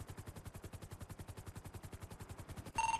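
Rapid automatic gunfire rattles in a police roleplay video game, a fast even burst of shots at moderate distance, fairly quiet, ending with a short electronic tone.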